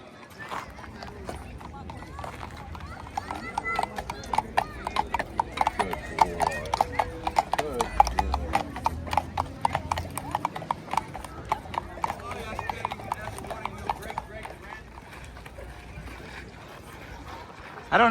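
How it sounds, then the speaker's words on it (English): Horse hooves clip-clop on pavement as a horse carriage and riders on horseback pass through a historic town street, with a steady near rhythm under ongoing talk and a whinny. "A couple of riders on horseback. Horse carriage is headed back."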